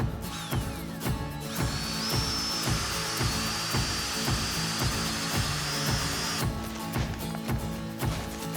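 A power drill boring a half-inch hole through a 4x4 wooden post, a loud close whine with a steady pulsing rhythm throughout and a rising pitch in the middle, no speech.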